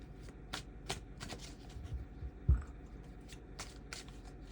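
A Hermetic tarot deck is shuffled close by, with a rapid series of crisp card riffles and flicks, plus one soft thump, and nobody talking.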